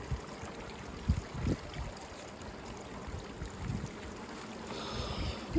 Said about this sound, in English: I just left the freaking hose on.